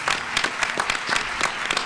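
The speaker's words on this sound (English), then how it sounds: "please give him a round of applause" An audience claps steadily at a talk on women, violence and gun control, a dense wash of many hands with no voices over it.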